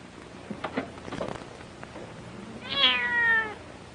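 A cat meows once, clear and fairly close, after a few soft rustles and faint patter in an otherwise quiet space.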